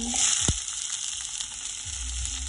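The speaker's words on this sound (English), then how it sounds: "i have some oil in this pan i'm gonna do my potato and chana of course here we go again" Potatoes and chickpeas frying in hot oil in a pan, a steady close sizzle throughout with a brief clink of a utensil near the start.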